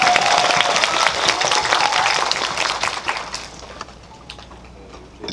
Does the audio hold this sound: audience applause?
yes